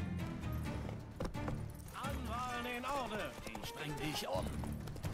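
Roach, the horse in The Witcher 3, runs with rapid hoof clops under game music and someone talking in German over the gameplay.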